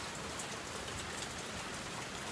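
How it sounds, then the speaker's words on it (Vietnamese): Heavy rain pours down on the road to Su Phì and Xín Mần, a dense, loud, unbroken hiss of drops drumming on surfaces without pause and with no voices over it. "Hôm nay trời mưa to quá các bác ạ."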